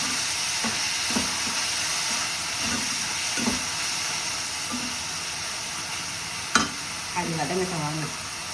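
Masala-coated brinjal sautés in an oiled pan for ennai kathirikkai, a soft steady sizzle broken by light stirring knocks and one sharp clink, with a short voice near the end.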